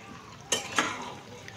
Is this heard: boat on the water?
no